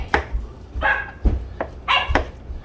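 A puppy in a home kitchen lets out a series of short, sharp yippy barks, roughly four spaced bursts, close and fairly loud with no talking.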